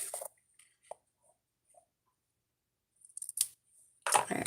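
Scissors snip through ribbon while trimming a tied knot for a craft bow, giving a few crisp, close cuts with quiet pauses between them and no talking.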